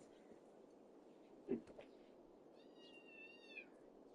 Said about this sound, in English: What's going on, kitten? Why are you crying?